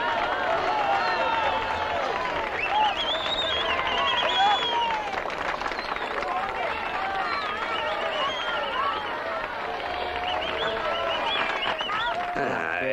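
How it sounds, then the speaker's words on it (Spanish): An audience applauds and cheers as the band Hombres G takes the stage at an awards presentation, a dense, continuous wash of clapping and crowd noise with excited voices mixed in. "¡Un aplauso para ellos!"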